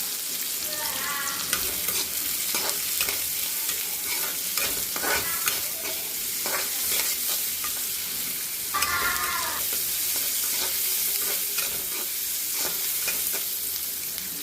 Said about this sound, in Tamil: வெங்காயம் போட்டுக்கலாம் நல்லா வதக்கிடலாம்